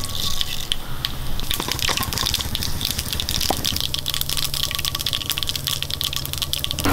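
Mustard seeds spluttering in hot oil, a dense, loud, continuous crackle of sharp pops and sizzle close by.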